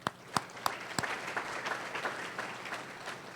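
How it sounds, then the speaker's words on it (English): Guests at a 2018 high school football banquet applaud, starting with a few loud individual claps that quickly swell into continuous crowd clapping in a hall. "let's give them a round of applause"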